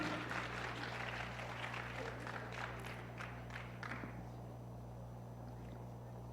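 A seated audience at an IMA Christmas program claps to cheer on the dance performers. The dense applause is moderately distant, runs for about four seconds and then fades out over a low steady hum.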